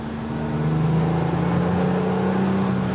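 A vintage BMW 3.0 CSL, the analog old-school original M car, drives along with a steady, loud engine drone and a firm low hum that holds unbroken throughout.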